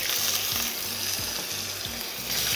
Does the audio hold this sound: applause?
no